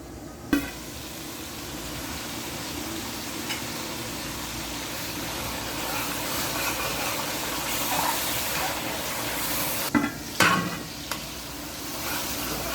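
Chana daal spice masala fries in a pan, giving a continuous loud sizzle, with a few sharp scrapes and knocks as it is stirred.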